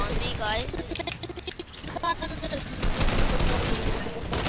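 Rapid sustained gunfire from a minigun in an online shooter game, dense and loud throughout, mixed with game effects and a player's voice talking over it.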